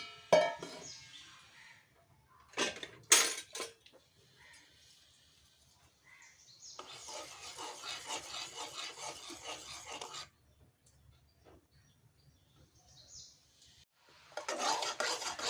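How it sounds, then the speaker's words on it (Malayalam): Melted jaggery syrup is stirred in a pan for sharkara varatti, long rough rasping scrapes of a spoon against the pan coming in bursts separated by quiet gaps, close and fairly soft, with no talk. "ഇതിനി ഒരു നൂൽ പരുവാകുന്നത് വരെ നമ്മളൊന്ന് ഇളക്കി കൊടുക്കണം."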